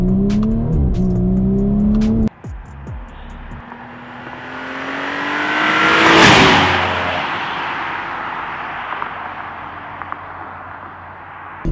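A Unitronic Stage 1+ tuned Audi B9 S4 pulls hard with a rising engine note and whistling turbo spool, then shifts abruptly and swells into a loud whooshing rush before settling into a steadier drone.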